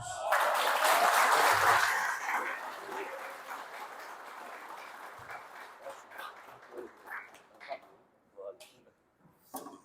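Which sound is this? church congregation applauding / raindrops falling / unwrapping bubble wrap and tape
church congregation applauding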